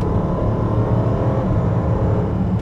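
A Range Rover SV Autobiography L405 accelerating hard in third gear at about 50 mph, heard from inside as a loud, steady engine roar and road rumble with no break.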